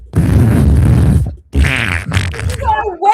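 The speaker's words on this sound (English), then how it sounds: "oh my God, is she farting?" Loud, close sputtering flatulent bursts from a woman, one long rasping stretch, then a pause and a shorter broken burst, with voices reacting near the end.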